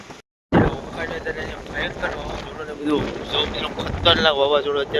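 Strong wind at sea during a storm buffets the microphone in a roaring rush at a fishing harbour, with a person talking over it after a brief dropout at the start.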